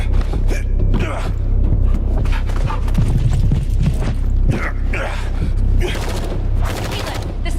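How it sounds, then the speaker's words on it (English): Gunfire crackles in the video game The First Descendant, dense bursts of rapid shots with clanks over a constant low rumble, close and loud throughout. "Gunfire."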